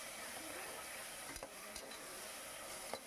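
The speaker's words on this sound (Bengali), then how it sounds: "দেখুন মশলাটা ভালো করে কষে নিচ্ছি।" Tomato paste and spice masala are stir-fried in a pan with a continuous close sizzle and hiss, and a few soft spoon scrapes come through now and then.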